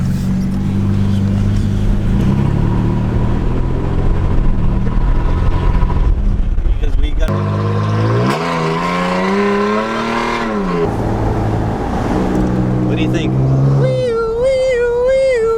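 A Toyota Tacoma pickup with a loud aftermarket MBRP exhaust drones loudly and revs in rising, rasping sweeps, with brief talk over it.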